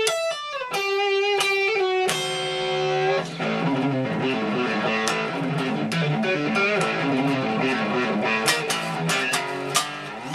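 Electric guitar plays the main riff of a song, opening with clear sustained notes and then moving into a dense, busy run of picked notes with bends, loud and continuous with no talking.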